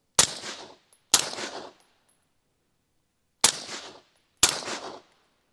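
Four suppressed rifle shots alternating between a Surefire RC2 and a Dead Air Sandman S, each a sharp crack with a brief fading tail, in two close pairs separated by a longer pause.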